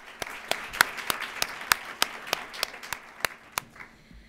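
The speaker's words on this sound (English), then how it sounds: "Let's just give a round of applause to the first group of panels that we've had." A small panel audience claps for the first group of panelists, a sparse, distinct run of about a dozen separate hand claps in uneven rhythm, fairly close, trailing off after roughly four seconds.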